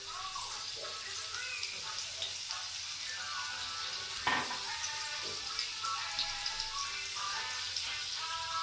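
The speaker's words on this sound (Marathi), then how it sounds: "आता आपण चांगलं परतून घेऊया" Crushed garlic sautéing in oil in a pan for fenugreek bhaji, giving a soft, continuous sizzle with faint scraping clicks from stirring. No one speaks over it.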